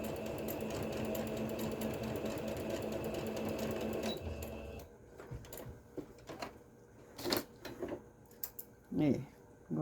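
Sewing machine running steadily while stitching shorts for a Santa outfit, then stopping, followed by scattered handling clicks and a person speaking nearby.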